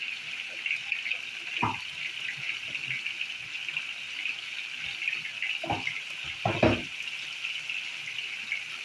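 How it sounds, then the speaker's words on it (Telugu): Water splashes in short bursts into simmering masala for a drumstick and prawn curry, a few brief pours over a steady hiss of cooking. "కొంచెం నీళ్ళు పోస్తున్నాను, మసాలా ఉడకాలి కదా అది."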